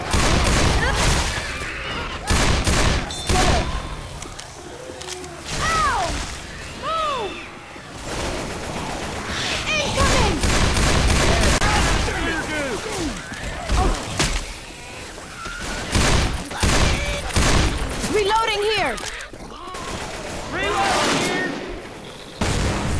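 Rapid, overlapping gunfire from Left 4 Dead 2 in the Flu Season mutation on the Parish campaign, loud and nearly continuous bursts of shots throughout, with several players' voices talking over the shooting.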